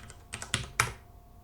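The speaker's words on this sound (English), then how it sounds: "So now if I type in my real password" A handful of quick keystrokes on a computer keyboard while a password is entered, with four or five close, crisp clicks ending in a firmer final press.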